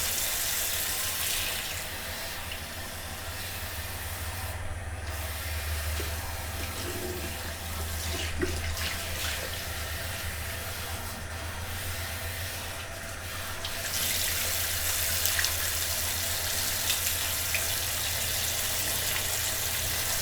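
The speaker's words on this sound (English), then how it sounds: "I did go ahead and dunk my head under the water" Running water splashes steadily from a tap into a sink or basin as a head with curly afro hair is dunked to wet it, a continuous close wash that dips briefly midway.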